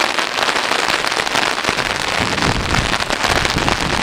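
Heavy rain pours down steadily and loudly, a dense continuous hiss of drops hammering a surface nearby, with no voices.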